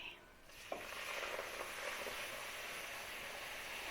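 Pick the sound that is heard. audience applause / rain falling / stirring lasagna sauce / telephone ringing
stirring lasagna sauce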